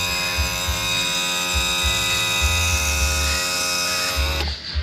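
The trim unit of a 1989 40 hp Evinrude outboard runs with a loud, steady electric motor whine and pulsing low hum, then cuts off abruptly near the end.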